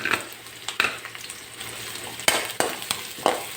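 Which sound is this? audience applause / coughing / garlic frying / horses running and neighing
garlic frying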